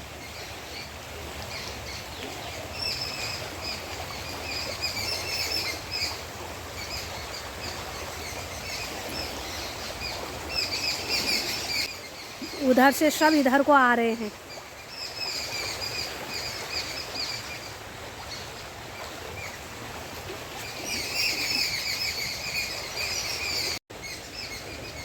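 Many birds chirp and call steadily in a forest near the Ganges at Haridwar, with a brief louder warbling burst midway, while a person talks briefly.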